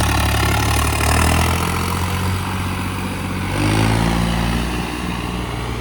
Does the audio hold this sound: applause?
no